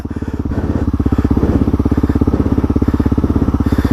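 A Honda CRF250L motorcycle rides through snow, its single-cylinder engine thumping in a fast, even pulse, loud and close, rising slightly in pace.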